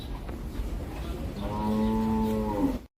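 A cow at a crowded livestock market before Eid, giving one loud, drawn-out moo close by over a steady murmur of the crowd.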